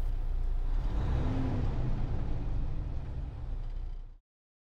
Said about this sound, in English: Practice revving the engine until you're consistently hitting the sweet spot.